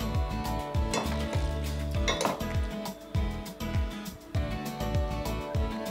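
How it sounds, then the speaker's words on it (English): Carnitas with their juices are spooned onto a plate for tacos, giving repeated clinks and scrapes of a spoon against a pan and plate, close and steady, with soft wet sloshing between strikes. "So we're gonna spoon some of these onto our plate with the lovely juices."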